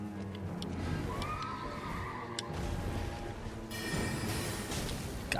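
A horse in Elden Ring whinnies with a drawn-out, wavering neigh, followed by more horse sounds amid game noise and effects, fairly quiet overall with no speech.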